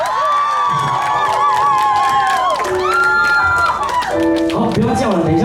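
A concert audience at an evening memorial music gala in Liuying, Tainan, cheering and shouting loudly with high calls and claps, while someone speaks over the noise on a microphone.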